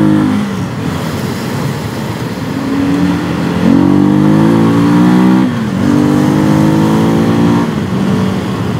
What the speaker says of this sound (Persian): صدای موتورم با هم بشنویم.